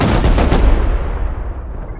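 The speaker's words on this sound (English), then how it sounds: "I just got shot at" Gunfire in a survival video game: a burst of rapid, loud shots over roughly half a second, then a rumbling decaying tail, with no talk.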